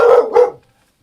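A pet dog gives two quick close barks in succession, loud and sharp, then silence.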